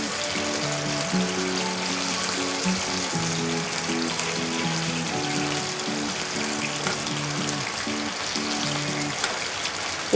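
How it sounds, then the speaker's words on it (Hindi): Chicken tikka shallow-frying in a pan over a medium-low gas flame, giving a dense, continuous sizzle that holds steady throughout. A faint melodic tone runs underneath. "ये अच्छे से फ्राई हो जाए तो फिर आहिस्ता से दूसरी तरफ हमें फ्राई करना है, अच्छे से पक जाए ये।"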